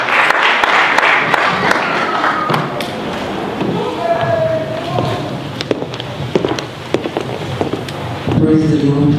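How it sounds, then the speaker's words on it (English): Guests at a 50th birthday celebration applaud, a thick spread of clapping that thins and varies in strength, with voices and speech heard through it. "A round of applause as she comes."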